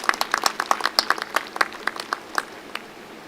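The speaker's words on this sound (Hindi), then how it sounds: "जोरदार तालियों से इन महिलाओं का हौसला अफजाई करते रहें।" Audience clapping at a CRPF women's sports match held for Khelo India, heard as sparse, irregular hand claps from a modest crowd across a few seconds.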